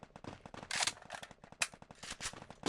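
Rapid automatic gunfire from the video game Free Fire rattles in dense, close bursts of sharp shots with a few louder cracks, no voices over it.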